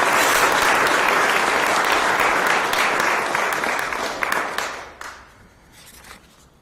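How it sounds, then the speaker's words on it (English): A crowd at a press conference claps loudly in a dense, sustained burst of applause that gradually thins out and fades over the last couple of seconds. "So please give yourselves a big round of applause."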